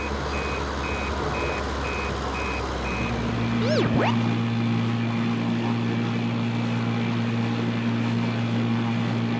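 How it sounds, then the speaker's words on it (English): A speedboat's engine drones on the water, first under an intermittent beeping, then a brief whooshing sweep before a steady, strong motor hum settles in close by. "Speedboat, a fast boat that zooms across the water."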